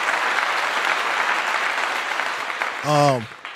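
Dense applause sound for the Party Music DJ on a live stream, steady clapping for nearly three seconds, then cut off as a voice briefly speaks over the end.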